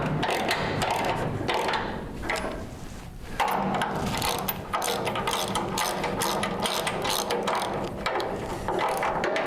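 A ratchet being cranked to tighten a frame rail jig on a 1973 Dodge Challenger, rapid repeated metallic clicking in steady bursts with a short pause, close and loud.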